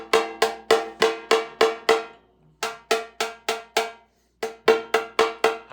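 Snare drum struck repeatedly during tuning, short bright cracks in quick even runs separated by brief pauses, close and clear with no talk.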